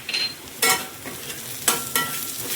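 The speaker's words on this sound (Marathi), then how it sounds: "हे आपल्याला चांगलं परतून घ्यायचं आहे. कढीपत्ता टाकत आहोत." Curry leaves sizzling as they drop into a hot pan of frying ground masala paste for a cluster bean curry, with a few short bursts of crackle over a steady low frying hiss.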